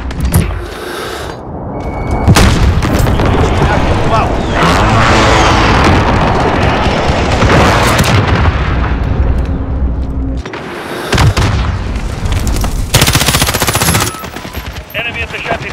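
Call of Duty: Modern Warfare Headquarters match on Shoot House, heavy rapid machine-gun fire and booming airstrike explosions in a loud, dense barrage, broken by a short lull before more blasts.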